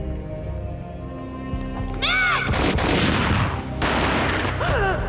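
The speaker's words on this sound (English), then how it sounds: "A gunshot boomed and she fell down in slow motion." Gunfire in the video game Max Payne, a loud burst of rapid shots and booming reports over a dark, droning game soundtrack, with a shrill cry heard near the start and end.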